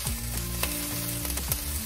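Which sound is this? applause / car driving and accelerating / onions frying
onions frying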